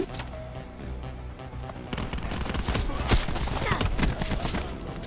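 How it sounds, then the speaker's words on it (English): Shotgun blasts in the video game Black Ops 4, a quieter stretch that gives way to a flurry of loud, close gunshots in irregular bursts, with faint talk mixed in. "They all took out shotguns now!"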